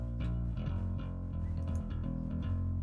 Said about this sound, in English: that's the sound of an Ampeg SVT.